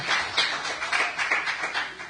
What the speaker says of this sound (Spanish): El aplauso al Señor.